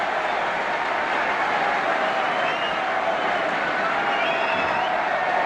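A large Arsenal football crowd at a cup presentation, a dense continuous roar of cheering from thousands in a stadium, steady and loud throughout.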